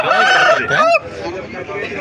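A rooster gives a loud, close honking cackle at a rooster market in Vijayawada, a short call of under a second followed by a noisy crowd murmur.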